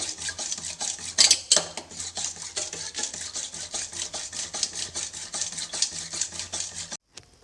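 Curd is churned into buttermilk with a hand churner, giving a steady rhythmic scraping and swishing of wood against a vessel, quick repeated strokes close by with no voices, then a sudden stop.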